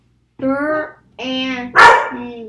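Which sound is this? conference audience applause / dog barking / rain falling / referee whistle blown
dog barking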